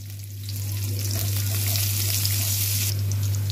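Onion goes into garlic browning in hot oil, a dense, steady frying hiss that swells and holds close and loud, over a low constant stove or fan hum.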